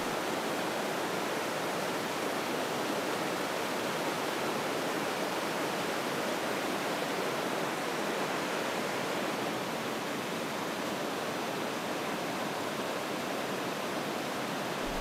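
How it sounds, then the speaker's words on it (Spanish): Urubamba river at Machu Picchu rushing over its rocky bed, a steady, dense broadband roar of flowing water that stays constant and close throughout with no voices. "El río Urubamba discurre zigzagueante por su lecho rocoso con aguas cristalinas."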